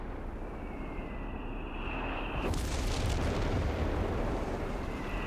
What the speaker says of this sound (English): Double heavy mortars though, they're doing a pretty good job.